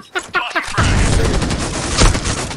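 A dense, loud burst of gunfire in the mobile shooter Critical Ops, including a shot fired through a wall, booming continuously with a sharp crack near the end; a voice briefly talks at the start.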